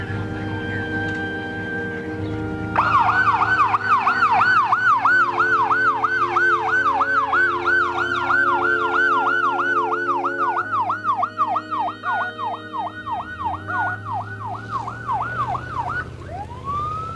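An ambulance siren wails loud and close, cycling rapidly up and down in a continuous yelp over a low engine rumble, cutting off near the end.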